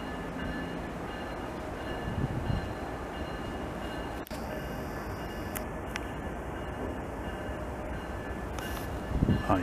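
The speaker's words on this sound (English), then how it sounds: "Oh yeah, it's a freight coming." A freight train rumbles past in Montreal in winter, a steady low roar of rolling wagons with a few sharp squeaks and clanks.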